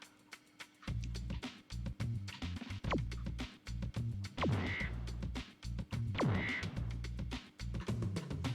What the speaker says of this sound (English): So now we're gonna shoot some birds.